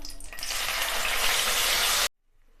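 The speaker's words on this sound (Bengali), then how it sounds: "এবার মশলাটাকে লো ফ্লেমেতেই এইভাবে নাড়াচাড়া করে 2 থেকে 3 মিনিট একটু কষিয়ে নেব।" Masala paste of tomato, ginger and chilli frying over a low flame, a steady close sizzle that holds for about two seconds and then cuts off abruptly into near silence.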